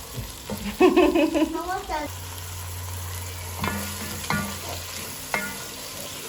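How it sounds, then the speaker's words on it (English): Tomatoes for a tilapia stew sizzle and fry in a pan, with a few scrapes of stirring and clinks of a utensil over steady low frying noise, no voices heard. "Make sure the tomatoes are well cooked until they become a paste."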